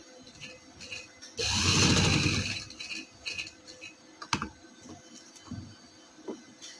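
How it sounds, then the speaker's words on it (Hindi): A sewing machine runs a short burst of stitching along a marked neck design on fabric. The mechanical whirr lasts about two seconds and sounds loud and close, then quieter clicks and handling noises follow. "उस निशान पे हम इस तरह सिलाई लगा लेंगे"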